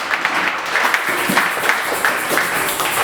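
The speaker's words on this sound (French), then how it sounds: "Can we clap our hands?" Church congregation clapping their hands together in a steady burst of applause, many hands at once, filling the room evenly for the full stretch without a break.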